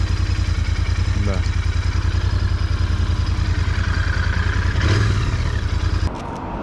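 A Royal Enfield Interceptor 650 motorcycle idles with a steady low, pulsing thump, close and loud, before the rumble abruptly drops away near the end.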